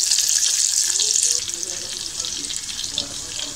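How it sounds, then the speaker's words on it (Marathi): Crushed garlic cloves and mustard seeds sizzling in hot oil for a tempering, a bright, continuous crackling hiss close by, loudest at first and then settling into a steadier sputter. "मी याच्यामध्ये तेलाची फोडणी दिली आहे"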